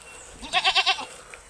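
A native goat bleats once nearby, a short wavering call broken into four quick pulses.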